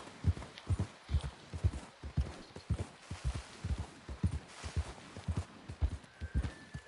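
Horse hooves walk in Red Dead Redemption 2, an even, unhurried clip-clop of soft thuds repeating throughout at close range, faint overall with no speech over it.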